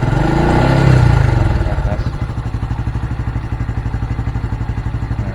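A Honda Blade 125 Fi motorcycle engine revs up loudly during idle adjustment, then drops back to a steady, fast-pulsing idle chug that continues close by.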